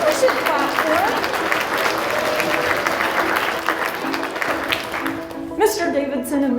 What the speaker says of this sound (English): Yeah, I think we should clap for it.